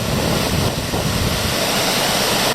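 A steady, loud broadband rush of falling water, constant and unbroken, with a roar like a nearby waterfall or wind buffeting the microphone.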